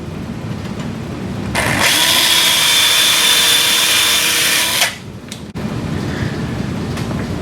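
Surgical power drill boring into a Sawbones bone model during a total wrist arthroplasty technique, a loud continuous high whine lasting about three seconds between quieter handling noise.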